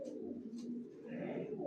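Low rolling coos from young racer pigeons in a cage, a short close burst of soft bubbling calls.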